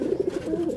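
A pigeon coos close by in a soft, steady series of low pulsing notes, clear and alone for under a second.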